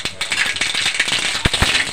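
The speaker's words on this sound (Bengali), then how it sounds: "তেল গরম হয়ে গেছে, ফোড়নে দিয়ে দেবো গোটা সর্ষে" Whole black mustard seeds pop and splutter in hot oil for a tempering, a close, loud run of rapid, irregular crackles with a few sharper bursts.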